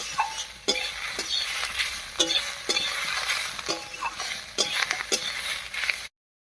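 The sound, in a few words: bottle gourd peel and coriander frying in pan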